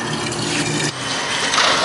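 Water is poured into a container, a brief gushing, filling rush that runs steadily for a couple of seconds at close range.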